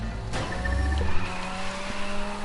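A car accelerates with squealing tires in one short burst, loud and close, with a rough engine note and a high tonal screech over it. No voices.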